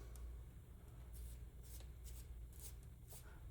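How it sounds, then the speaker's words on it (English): A manual pencil sharpener shaving a pencil gives quiet, close scraping bursts in a short irregular series, with brief pauses between turns. "you kind of need to just have a sharpener nearby. So, that's what I'm doing."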